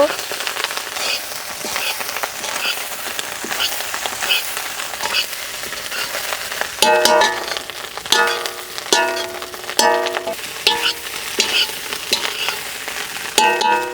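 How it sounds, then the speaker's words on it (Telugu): Rice being stirred into mixed non-veg biryani in a hot pot, a steady frying sizzle broken by repeated scraping stir strokes that grow louder and more rhythmic midway, with no talk. "రైస్ వేసుకున్నాక గ్యాప్ లేకుండా బాగా కలపాలండి 2-3 నిమిషాల పాటు"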